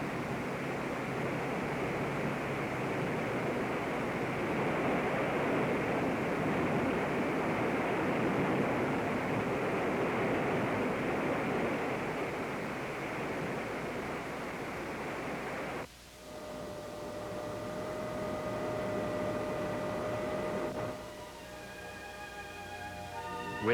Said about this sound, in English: Here the water is bypassing the turbine.